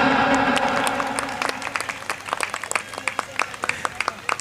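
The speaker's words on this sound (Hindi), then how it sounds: "राजेश शर्मा, जोरदार तालियां।" An audience breaks into applause for Rajesh Sharma at a felicitation event, starting as dense clapping and thinning into scattered individual claps, with a voice briefly audible at the start.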